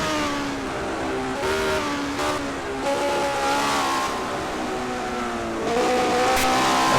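A March 701 racing car in a racing video game, its engine a steady, loud whine that rises and falls through gear changes, continuous with no talk.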